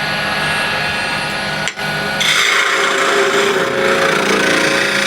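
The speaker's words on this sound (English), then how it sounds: "this will be a quick back hollowing" A lathe tool back-hollows the inside of a spinning walnut burl box, producing a loud, continuous rasping scrape over the lathe's drone, with a brief dip before the cut bites harder and brighter.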